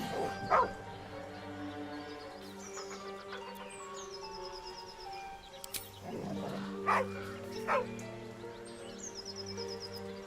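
A dog in the Baldur's Gate 3 video game barks and yips in a few sharp bursts near the start and again toward the end, over a steady hum of game ambience.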